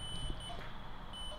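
A ghost-hunting meter gives faint, thin electronic beeps at intervals over quiet room noise inside the old Norwich State Hospital building, with no voices.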